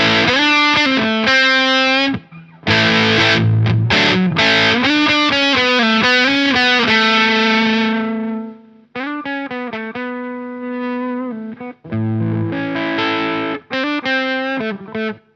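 Electric guitar with humbuckers through a Solaris Pro fuzz pedal, guitar volume rolled back to about three, playing loud fuzzy chords and single-note phrases in bursts with short pauses between, no talking.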